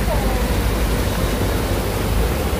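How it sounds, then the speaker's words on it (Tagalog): A park waterfall pours in a steady, dense roar heard close up, constant and loud with no break. "Nandito kaming tatlo sa may falls."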